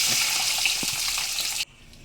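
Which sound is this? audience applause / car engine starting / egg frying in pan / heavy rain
egg frying in pan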